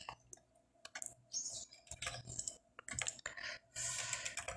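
Bursts of rapid clicky keystrokes on a computer keyboard entering data into clinic software, close and crisp, arriving in uneven clusters separated by short pauses.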